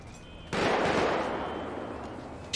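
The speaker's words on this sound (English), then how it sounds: "Who's shooting? Y'all hear that, right?" Sudden burst of gunfire in a GTA 5 street scene, a sharp onset followed by a sustained, loud noisy wash of shots and echo that slowly decays, with another burst starting right at the end.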